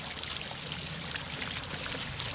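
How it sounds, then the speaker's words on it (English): Water trickles steadily through a small decorative water feature at a church entrance with a paver patio, a continuous close splashing and gurgling that runs evenly from start to finish. "Pretty cool little water feature here."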